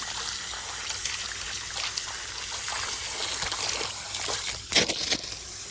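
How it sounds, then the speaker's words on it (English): Garden hose squirting water out of an above-ground robotic pool vacuum cleaner, a steady close splashing trickle with irregular spatters and a brief louder gush near the end. "we just take the hose and just squirt it"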